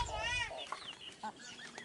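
Sasso free-range chickens, a new batch of five, cluck and squawk close by in a short burst of calls, with a voice briefly talking over them.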